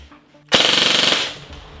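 A Krytac Kriss Vector airsoft AEG, stock out of the box, fires a short full-auto burst: a loud, close, rapid mechanical rattle lasting under a second, then a brief fading tail.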